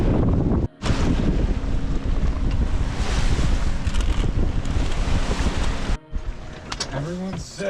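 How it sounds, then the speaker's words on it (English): Strong wind and big ocean waves offshore in the Pacific aboard a sailboat, a loud steady roar of wind buffeting with water rushing, briefly cutting out twice, with faint voices near the end. "Getting out here into some much bigger water now. It's getting windy too."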